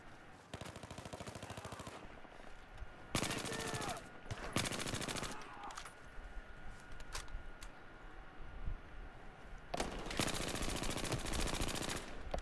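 Battlefield 4 machine gun fire comes in loud, close, rapid bursts of several automatic shots separated by short gaps, heavy recoil implied, with other battlefield noise underneath.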